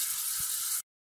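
Onions and green chillies sizzle in a pan, a steady bright hiss that runs briefly and then cuts off abruptly.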